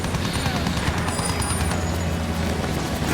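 Gameplay in Battlefield 1 brings dense, continuous gunfire and explosive rumble in a busy battlefield mix, loud and sustained throughout with no clear pauses.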